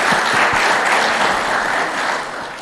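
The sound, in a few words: applause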